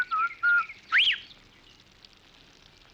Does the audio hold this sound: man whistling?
yes